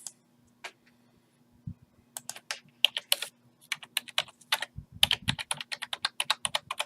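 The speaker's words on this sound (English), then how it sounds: "Type in my IP address again." Close-up keystrokes on a computer keyboard as an IP address is entered: a few isolated taps, then quick uneven bursts of crisp clicks in a quiet room, with no speech.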